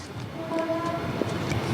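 A train passing near a street, with a sustained horn-like tone swelling over rumbling traffic and brief clanks, moderately loud against a busy outdoor background.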